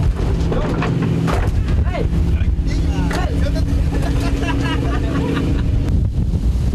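An anchovy fishing boat's engine drones steadily beneath gusting wind noise in rough seas, with occasional splashes and faint voices in the background.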